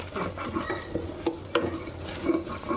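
Stock is stirred into a cooking pot, giving close, irregular scraping and clinking of a utensil against the pot over a low sizzle, with no talking.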